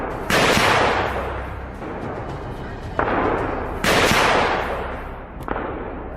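Rifle shots fired at a wild boar on a Texas farm, two loud sharp cracks a few seconds apart, each trailing into a long rolling echo, with fainter snaps between them.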